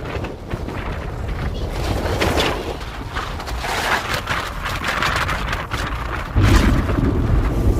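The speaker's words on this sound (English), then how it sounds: "we ended up having some really bad storms at the end of our 4 hours, so our power went out" A thunderstorm rolls over a homestead with a steady, dense roar of rain and wind and low rumbling that grows heavier toward the end. The sound is continuous and fairly loud throughout.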